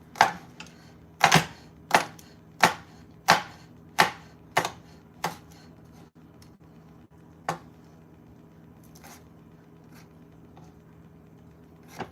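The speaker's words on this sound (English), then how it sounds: "now we're gonna chop up our garlic and mince our garlic" Knife chopping garlic on a cutting board, a run of about eight crisp, evenly spaced chops followed by a few slower, softer cuts, close up with no talking.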